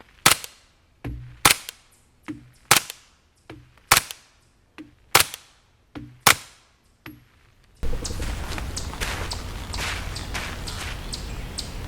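A pistol fires 9x19mm subsonic FMJ rounds, Freedom Munitions HUSH 115, 147 and 165 grain, in about eleven sharp cracks spaced roughly half a second apart. Steady wind or ambient noise follows.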